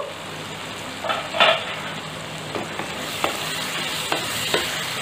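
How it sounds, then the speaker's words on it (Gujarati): A spatula stirs and mixes dry parval (pointed gourd) sabzi in a pan over a medium flame, with a soft, steady sizzle and several scraping strokes spaced unevenly, heard without any voice. "એક વખત બધું સરસ મિક્સ કરી લેવું આવી રીતે મિક્સ કરીને પાછું આપણે તેને બે મિનિટ માટે કૂક કરીશું"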